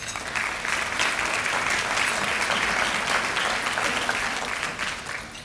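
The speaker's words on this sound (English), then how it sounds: "So please give yourself a round of applause." An audience at the United Way of the Lower Shore 2018 annual meeting applauds itself with a full, continuous round of clapping that holds evenly loud throughout and tapers slightly at the end.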